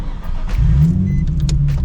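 A Nissan 350Z pulls away for a cruise. The engine gives a short, close rumble that swells and holds briefly as the car moves off, with no talk.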